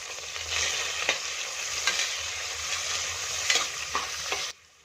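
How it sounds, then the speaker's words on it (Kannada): Chopped onion and tomato fry in a pan for fenugreek rice bath, giving a steady close sizzle broken by periodic scraping stir strokes, then cutting off abruptly near the end. "ಒಂದು ಟೊಮೊಟೊ ಕೂಡ ಕಟ್ ಮಾಡಿಕೊಂಡು ಹಾಕೋತಾ ಇದ್ದೀನಿ ಇದನ್ನು ಕೂಡ ಚೆನ್ನಾಗಿ ಫ್ರೈ ಮಾಡ್ಕೊಳ್ಳೋಣ"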